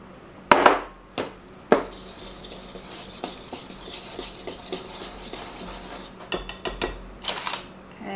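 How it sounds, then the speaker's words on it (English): Flour, cinnamon, salt, baking soda, baking powder and cocoa whisked together in a bowl for chocolate zucchini bread, heard as scattered clicking taps of a whisk against the bowl with a few sharper knocks, close by and without talk. "add all my dry ingredients to this bowl and just whisk them together"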